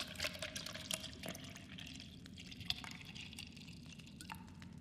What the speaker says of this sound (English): Pour the red liquid from the bottle into the bowl